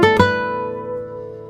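A guitar strung with Mutant series treble strings and played dry with no reverb: two quick plucked notes ring out close and clear, then sustain and slowly fade.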